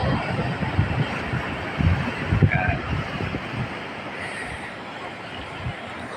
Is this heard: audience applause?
no